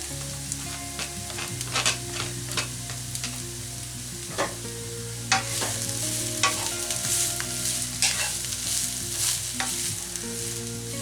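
Beef mince frying in a hot pan for beef and vegetable filo pies: a loud, steady sizzle with repeated scraping stirs of a utensil against the pan, close up and without talk.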